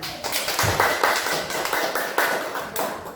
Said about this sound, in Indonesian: Terima kasih kelompok 2, tepuk tangan.